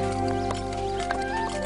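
A horse in an animated scene, with clip-clop hoofbeats and a faint whinny heard briefly over steady background music.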